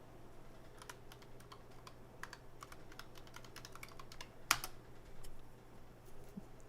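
Quiet typing on a computer keyboard, a steady patter of light key clicks with one sharper clack near the middle, close and faint, with a low hum underneath and no talking.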